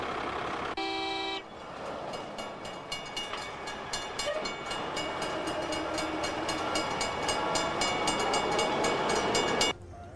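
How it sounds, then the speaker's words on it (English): Trains at a rail yard with track-repair trucks and an Amtrak Genesis locomotive nearby: a steady rumbling roll of cars with a loud horn toot early on, close and continuous throughout. "Here you'll find trains, and more trains."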